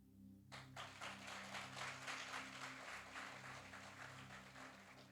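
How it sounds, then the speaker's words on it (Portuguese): A church congregation bursts into applause after a moment of quiet, and the sustained, dense clapping continues to the end at moderate distance. "Pode aplaudir o Senhor por isso."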